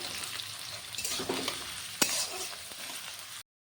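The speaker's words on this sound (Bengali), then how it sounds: "সাদা তেল দিয়ে দিচ্ছি এখানে কেটে রাখা বিনস দিয়ে দিচ্ছি এখানে দিয়ে দিচ্ছি গাজর" Chopped beans and carrots fry in hot white oil in a wok, a close, steady sizzle with a few stirring scrapes and one sharp clack of a utensil before it cuts off.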